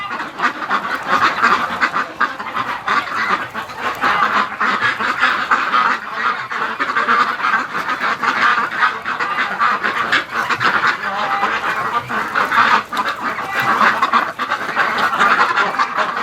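Muscovy ducks at dusk keep up a dense, continuous chorus of quacks and honking calls close by, overlapping throughout with no pauses and no voices.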